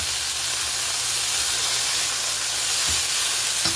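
Hamburger patties fry in grease in a pan, a steady close sizzle and hiss that holds at an even level throughout, with a faint clink near the end.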